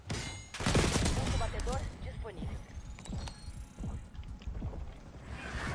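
Rapid bursts of gunfire in Call of Duty: Black Ops 6 with mechanical clicks and rattles, loud at first then continuing more sparsely over a busy game soundscape.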